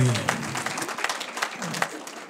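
Scattered applause from the audience at a public comment meeting on a utility company, clapping at moderate distance that tapers off while a voice speaks over it.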